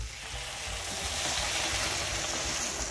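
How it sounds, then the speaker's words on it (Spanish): Meatballs sizzle loudly in a hot pan as beer is poured in, a steady, dense hiss and crackle with low bubbling throughout, close up and without talking. "Vamos a añadir en este momento la cerveza."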